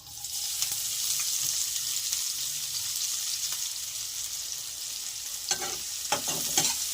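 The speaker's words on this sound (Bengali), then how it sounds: "একটু হালকা লাল লাল করে ভেজে নেব।" Chopped onions fry in oil with cumin and bay leaf in a pan, giving a steady bright sizzle throughout, with occasional scraping stirs and clinks near the end and no speech.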